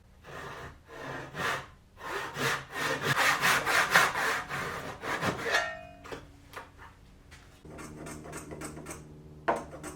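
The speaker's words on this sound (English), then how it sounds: "I am going to clamp this down to the edge and use my saw here to just cut an angle" Hand saw cutting an angle in a clamped piece of wood for a bench hook, a rapid series of close, rasping back-and-forth strokes that builds, then slows into a few lighter scrapes and taps.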